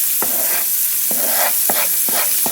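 Blended onion, garlic and pepper with geera fry in a hot pot for Guyanese fry pumpkin, a steady loud sizzle broken by four sharp stirring scrapes at regular intervals.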